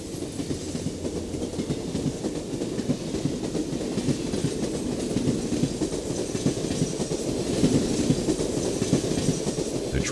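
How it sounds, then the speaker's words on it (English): Amtrak No. 10 passenger train rolls across a bridge on its run from Seattle toward Chicago, a steady loud rumble of wheels with rhythmic clickety-clack over the rail joints, continuous and close throughout. "Amtrak number 10 crosses as it starts the last leg of its journey from Seattle to Chicago."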